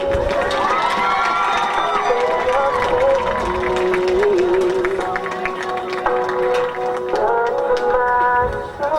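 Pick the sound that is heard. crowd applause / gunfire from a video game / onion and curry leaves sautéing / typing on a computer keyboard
crowd applause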